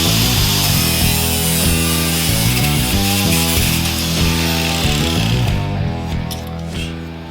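A piece of metal cutlery being cut with a power tool, a loud, close, harsh grinding rasp with a steady pulsing rhythm that eases off toward the end.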